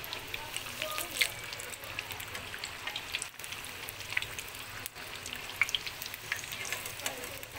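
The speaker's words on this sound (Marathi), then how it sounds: "छान क्रिस्पी होईपर्यंत आपण तळणार आहोत" Sabudana vada crisp in hot oil with a steady, soft crackling sizzle and scattered tiny pops, fairly faint and continuous throughout.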